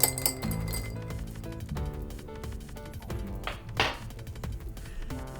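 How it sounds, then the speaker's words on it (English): Ice clinks and rattles against glass in a steady jumble of light taps as a Boulevardier cocktail is stirred, close and clear, with no voices. "let's give it a little stir."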